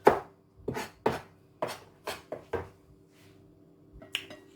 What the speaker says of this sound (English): while I'm chopping up my coconut.